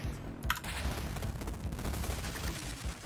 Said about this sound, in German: Ich hab einfach nach oben geschossen.